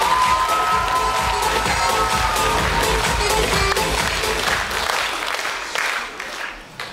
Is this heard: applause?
yes